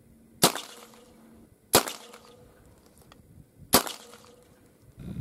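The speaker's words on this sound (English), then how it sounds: "Let's put a few wax slugs through that rifled barrel and see how they perform." Three sharp, loud shotgun blasts ring out at uneven intervals, wax slugs fired through a rifled slug barrel, each crack dropping back to a quiet outdoor background.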